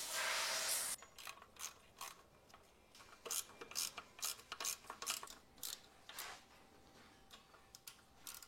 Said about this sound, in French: Là, je vais pouvoir visser mon étrier.